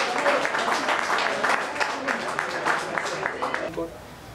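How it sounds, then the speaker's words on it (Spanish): Crowd applause for a band at a metal concert, dense clapping with scattered shouts and voices, loud and steady for several seconds before dropping away abruptly near the end. "un aplauso bien fuerte para ellos"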